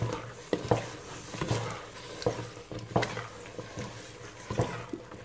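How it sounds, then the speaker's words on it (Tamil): Ghee, sugar and wheat flour halwa cooking in a pan is stirred in uneven strokes, a soft frying hiss under repeated thick scrapes and wet slaps of the spoon. "இப்படியே கிண்டிக்கிட்டே இருந்தோம்னா நல்லா இறுகி வரும்"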